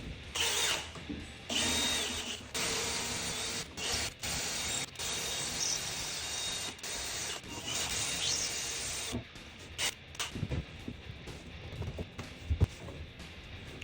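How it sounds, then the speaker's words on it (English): A power drill drives 2-inch coarse-threaded screws through a second, inch-thick layer of drywall, in loud bursts of whirring with short pauses between screws, ending in quieter handling clicks. "Now I'm installing the second layer and I'm using 2-inch coarse threaded screws"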